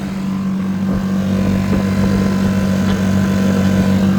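A Mercury 3.5 outboard motor pushes a Quest Angler 10 boat, giving a steady, loud, continuous engine drone with a constant low hum and no talk.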